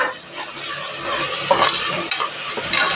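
Mint and coriander leaves tossed into tomatoes frying in a cooker for mushroom biryani, giving a close, steady sizzle with stirring scrapes and a few sharper crackles, no talking.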